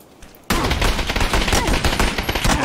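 Sustained automatic gunfire in PUBG on Miramar bursts in suddenly after a quiet moment, loud and dense rapid shots that keep going to the end.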